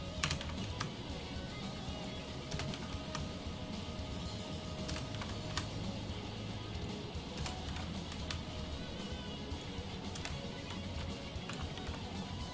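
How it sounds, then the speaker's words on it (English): Rapid typing on a computer keyboard, dense irregular clicks and taps in quick bursts, close and moderately quiet over faint background hum, with no talk. "Typing random symbols here."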